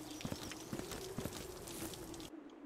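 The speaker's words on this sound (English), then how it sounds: "I hear footsteps." Footsteps in the top-down shooter game Zero Sievert thud in a steady walking rhythm, several paired clumps sounding like hooves over a constant hum of game noise before cutting off abruptly.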